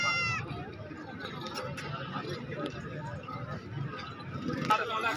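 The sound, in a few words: goat bleating at a livestock market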